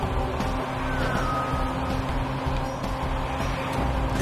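A car driving in Watch Dogs, its engine a steady, continuous drone with a faint higher whine rising briefly, heard close and without pause over the short stretch.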